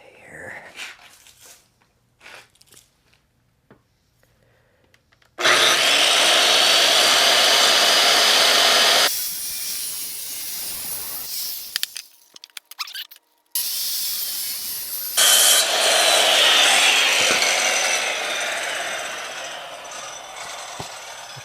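A power tool cuts material for a lithium battery mount inside a bass boat, running loud and steady in two long bursts with a short stop between, after quiet handling noises.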